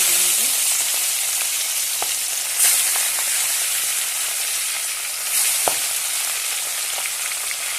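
Katla fish pieces rubbed with salt and turmeric frying in hot oil, a steady loud sizzle throughout with a few faint clinks of utensils, no voices.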